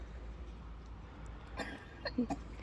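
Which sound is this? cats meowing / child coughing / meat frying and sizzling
child coughing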